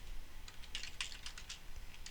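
A burst of rapid keystrokes on a computer keyboard enters a chmod command, the clicks quick and fairly faint over a low background hum.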